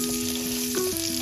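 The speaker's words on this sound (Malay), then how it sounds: "kita goreng bawang besar dan bawang putih sehingga garing dan wangi." Steady sizzling of onions and garlic frying in hot oil, continuous and close, with a faint hum and occasional light stirring.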